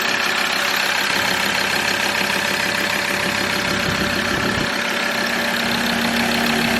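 A Ford Ranger fitted with an EGR cooler bypass and blank idles close by, a steady mechanical hum with a faint, even ticking rhythm and no talking.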